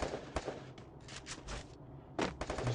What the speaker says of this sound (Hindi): किलर का हेडशॉट यहाँ पे डेजर्ट ईगल से।